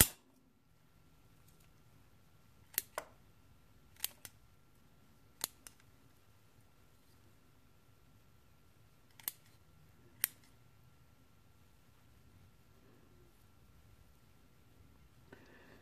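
Scissors snip through apple bonsai roots during repotting, a handful of sharp, quiet clicks spaced irregularly against a near-silent background with no talk.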